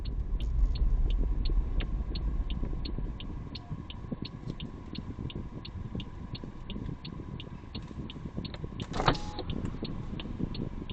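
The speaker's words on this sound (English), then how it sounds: "I roll down my right window so that I can actually use my hearing to see if I can hear if a car is" A car's electric right-side window motors down while driving, a low road rumble running throughout, along with repeated faint ticking and a brief mechanical whir near the end.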